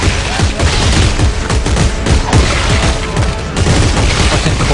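Heavy, rapid gunfire in the Dead Space 3 video game, loud overlapping shots and booms fired continuously in a dense, relentless barrage.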